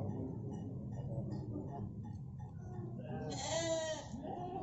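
Sheep bleat at the Bawang animal market, where rams are sold for breeding and fattening; one clear, close bleat rises near the end over a steady murmur of crowd noise and people talking.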